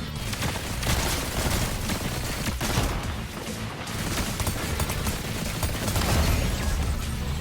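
Pulse pistols firing in Fortnite, dense rapid bursts of shots with booms, continuous and fairly loud throughout with no talk.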